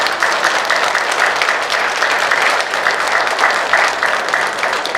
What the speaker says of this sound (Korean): 전 신성여고 교장이며 현 중앙주교자 주임 신부님 남승택 가브리엘 신부님을 큰 박수로 맞이해 주십시오